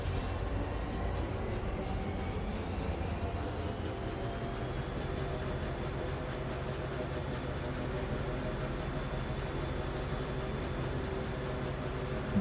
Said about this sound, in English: we can go back in the train now and I can hit maximum backward speed